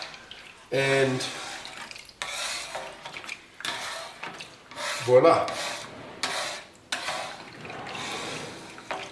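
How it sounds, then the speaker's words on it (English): Water runs off the plate of a Silex GTT10 grill into its rear drip tray during cleaning, gurgling and rasping in repeated bursts alongside scrubbing, with someone talking in between. "You can hear there all the water going into the back, into the drip tray,"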